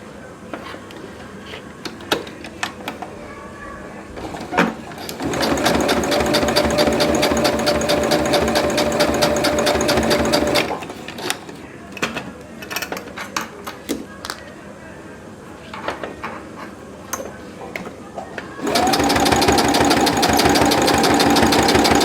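A sewing machine stitches a bag handle in two long, steady runs of rapid mechanical whirring, separated by quieter stretches of clicks and handling while someone talks.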